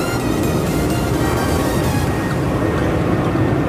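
A continuous low roar of an airplane engine dominates, steady and fairly loud, with a faint whine on top, no voices.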